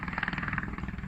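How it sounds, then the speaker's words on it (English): Helicopter resupplying mountain huts in the Swiss Alps near Surenen Pass, its rotor thumping in a fast steady pulse, fairly close and loud throughout the brief moment. "It turns out they are actually resupplying the huts in the mountains by helicopter."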